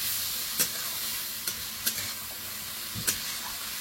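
Masala being sautéed in a pan in a home kitchen: a steady hiss with a few sharp clinks of a stirring spoon against the metal, close up, no talking.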